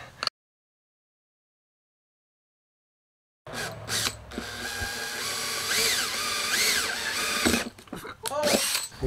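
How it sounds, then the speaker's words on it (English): Power drill boring a hole through a hard RV dinette table, a steady loud whirring grind after a stretch of silence, with pitch rising and falling as the bit bites, and brief speech at the very start. "We might have to drill a little bit bigger hole."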